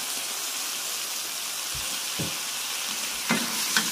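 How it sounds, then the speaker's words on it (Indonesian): Chopped vegetables sautéing with fragrant spices and a little added water in a pan for martabak madura filling, a steady bright sizzle with a few soft thumps and scrapes of stirring; no talking. "Kita tumis sampai layu."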